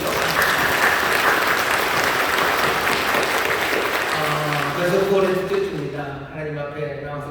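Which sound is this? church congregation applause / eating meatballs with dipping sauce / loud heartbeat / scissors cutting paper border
church congregation applause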